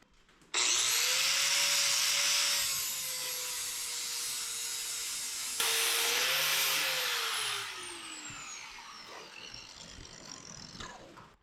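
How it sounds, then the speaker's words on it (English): An angle grinder cuts into rivet heads on the metal handle of an old John Deere, a loud steady shrill whine that drops and shifts in pitch as the disc bites, running alone for several seconds before tapering off. "We're just going to grind the heads off of this."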